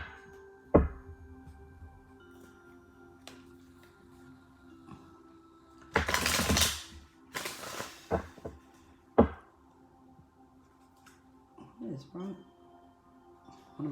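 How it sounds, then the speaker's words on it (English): Two quick bursts of riffling cards, close by, between scattered soft knocks and taps on a table. "I'm going to give the cards a quick shuffle"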